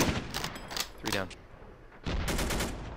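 Machine gun fire crackles in the World War II shooter game Invasion 1944, coming as two loud, close bursts of rapid shots with a short quieter gap between them and a brief voice in the middle.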